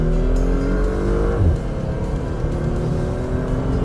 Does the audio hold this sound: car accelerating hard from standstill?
yes